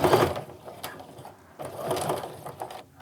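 A sewing machine stitches and back-stitches to reinforce a seam on a fabric clutch, its needle whirring in two close, steady bursts separated by a brief pause, with no talking.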